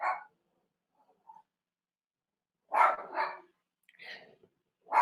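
Several dogs bark indoors in short, loud bursts, excited by a cat moving nearby; a few sharp barks come in two clusters with brief quiet between, no talk.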